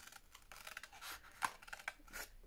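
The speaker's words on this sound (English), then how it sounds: "I'm going to find a pair of scissors and I'm going to cut along this fold" Scissors snip along a fold of paper during a faux eco dyeing craft, several quiet crisp cuts and rustles close by, with no talk.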